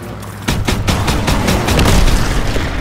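Rapid gunfire and booming blasts from World War II combat in the Call of Duty WW2 campaign mission Operation Cobra, loud dense bursts starting abruptly and continuing without pause, with no talk.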